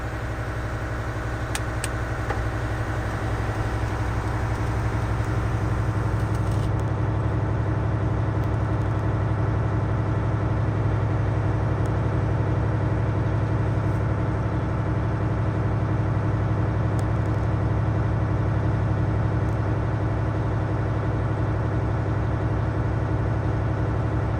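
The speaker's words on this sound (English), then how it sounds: "we're going to watch that primary air gauge and make sure that the primary air gauge cuts out between 120 and 140" A semi truck idles in the cab with a steady, low diesel rumble while its air brake system builds pressure, a constant drone lasting the whole stretch, with faint hiss and clicks.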